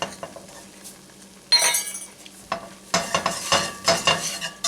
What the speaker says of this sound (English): And I'm making a nice little roux.